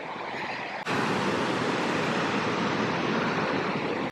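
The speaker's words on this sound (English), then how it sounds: "I can hear a river, just can't see it yet." A steady broadband rush of water, like a river flowing through woods, swells in abruptly and holds constant and fairly loud with no talking.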